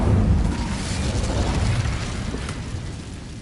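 Incendio fire spell cast in Hogwarts Legacy, a dense whooshing, roaring burst of flame with explosive rumble that swells at the start and stays loud and continuous throughout, with no speech.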